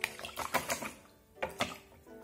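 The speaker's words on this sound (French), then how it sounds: "il suffit plus de fouetter vigoureusement" Eggs whisked vigorously with cinnamon in a bowl, giving a quick run of close, clattering strokes in uneven bursts, a short pause, then a couple more strikes.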